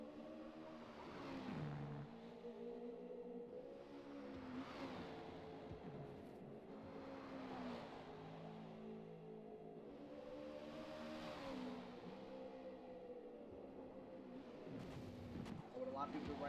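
Lamborghini Diablo engine in the Forza racing game on the Nürburgring, a steady, muffled drone that swells and falls with each gear pull, with a brief louder flare near the end, kept low in the mix.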